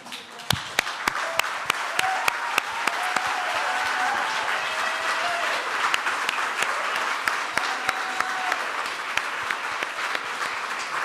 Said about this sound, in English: Yeah, a huge clap for them.